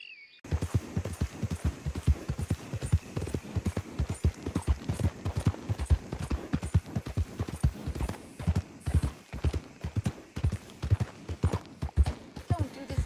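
Horse hooves clip-clop steadily in Red Dead Redemption 2, a continuous run of close, evenly paced thuds lasting throughout, with a brief faint voice-like sound at the start.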